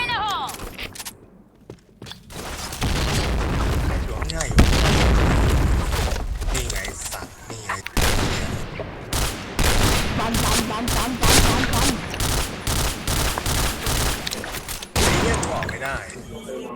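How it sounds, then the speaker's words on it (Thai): Dense gunfire bursts and a car explosion boom in a multiplayer shooter video game, loud rapid volleys across the whole stretch while players talk and shout over them. "รถระเบิด"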